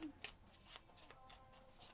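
Shiny tarot cards being shuffled by hand, a quiet close riffle of repeated soft slapping bursts at an uneven rhythm, with faint speech in the background.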